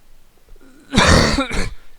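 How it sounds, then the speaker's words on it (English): A single harsh throat-clearing cough, close and loud, a rough burst followed by a shorter second hack. "Excuse me for the cough."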